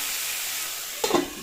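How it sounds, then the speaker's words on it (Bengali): Vegetables fry in a covered pan with a steady close sizzle, then a short burst of clattering and scraping as the lid or spatula moves near the end. "ঢেকে ঢেকে ভেজে নেব।"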